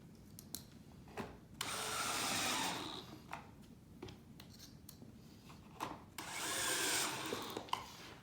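A power drill drives screws into a wooden farmhouse corner bench, two sustained whirring bursts of a second or so each, separated by sharp clicks, taps and handling knocks, close and without speech.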